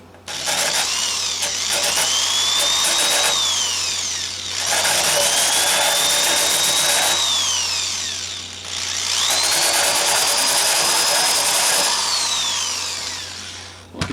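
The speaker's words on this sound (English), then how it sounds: "I got the rolling pin sander, and I'm hoping this is the trick" A rolling pin sander works epoxy putty on the finish of a 2003 Martin DM acoustic guitar, running in three long, loud, whining passes with short pauses between them.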